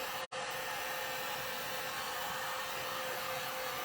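A hair dryer blows steadily to dry wax on a wooden box being made over in western style, a loud, constant broadband whoosh with one brief cutout near the start.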